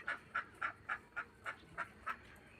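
A duck quacks eight times in an even, steady rhythm, each call short and faint, with no voices.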